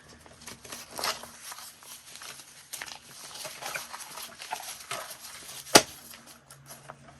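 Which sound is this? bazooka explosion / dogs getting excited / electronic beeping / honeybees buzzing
dogs getting excited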